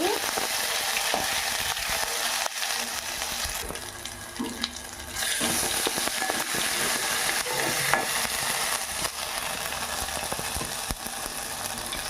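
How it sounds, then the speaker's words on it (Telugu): Chopped onions frying with ginger-garlic paste, mustard seeds and curry leaves in a pan for an egg tomato curry give a loud, constant sizzle and crackle. Occasional stirring scrapes run through it, with a brief softer dip midway and no voices. "ఉల్లిపాయలు వేసుకున్నాం. పచ్చాసం పోయేదాకా కొంచెం మగ్గనిద్దాం."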